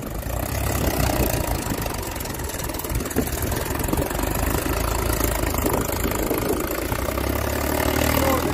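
A farm tractor engine idles steadily and loudly for the whole stretch, a continuous low rumble with a faint knocking texture and no voices.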